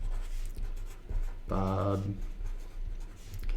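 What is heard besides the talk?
writing with a pencil on paper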